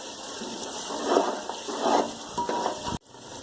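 Fish masala with onions stirred in a pan, soft scraping swishes and a light sizzle in a few slow strokes, close but fairly quiet, ending with an abrupt cut.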